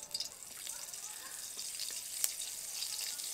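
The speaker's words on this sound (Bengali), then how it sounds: "এই তেলের মধ্যেই দিয়ে দেবো সামান্য পরিমাণ কালো জিরে, 3টে চেরা কাঁচা লঙ্কা দেব" Nigella seeds and three slit green chillies hit hot oil in a pan and crackle with a bright, fairly quiet sizzle, with a few small pops and spits over a steady hiss.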